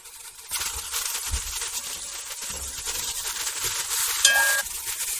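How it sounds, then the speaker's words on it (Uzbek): Potatoes fry with onions, coriander and dill in a pan, giving a steady hissing sizzle with occasional stirring knocks and a brief metallic clink near the end. "Endi yaxshilab qovuramiz."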